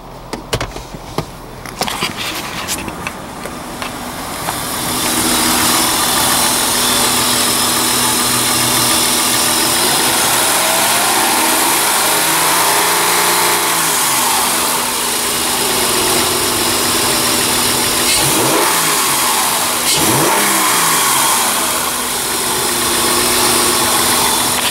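A 2004 Honda Pilot engine, just repaired after a cylinder 4 misfire, idles steadily and loud up close for most of the stretch, with a few brief revs rising and falling, after some handling noise at the start.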